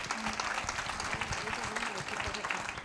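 A congregation at a Sunday church meeting of Narrow Gate Ministries of Pakistan claps together in a steady, moderately loud burst, with voices mixed in beneath the clapping.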